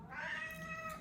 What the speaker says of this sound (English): Sorry for my cat is meowing.